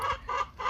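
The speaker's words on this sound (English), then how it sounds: "they just are loud chickens" Backyard chickens in their coop cluck loudly in three close, rhythmic bursts with short gaps between them, nearby and with no voices.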